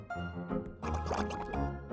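Liquid pours into a pitcher in a cartoon for children, a short close gurgling and dripping burst of about two seconds with faint voices beneath.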